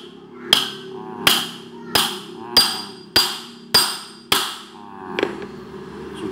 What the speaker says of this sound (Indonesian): Terus langkah selanjutnya kita patok pakai palu.